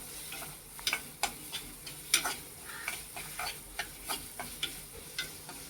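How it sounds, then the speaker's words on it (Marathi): Grated dried and fresh coconut sautéing in a little oil, with a steady sizzle under repeated scraping and stirring taps from a utensil in the pan, moderately close and free of talk. "हे चांगलं परतवून झालं ना, चांगलं परतून घ्यायचं थोडं तेलामध्ये."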